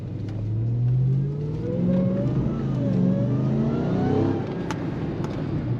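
A 2006 Chevy Express 2500 van with transmission trouble revs while driving in traffic, its engine climbing in pitch through several close, rising pulls over a steady road rumble.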